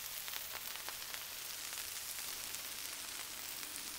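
Smashed burger patties frying on a Blackstone griddle outdoors, a steady close broadband sizzle with small crackling pops and no talking.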